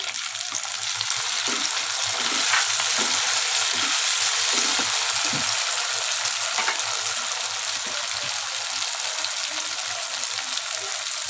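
Onions and tomatoes fry in a pan for an egg gravy, making a loud, continuous dense sizzle close by, with occasional faint stirring clicks and no speech.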